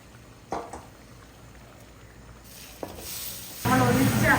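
Beef fat for a beef leg curry hits a hot pan. A couple of faint clinks and quiet pauses come first, then a loud, dense sizzle bursts in near the end and keeps going strongly.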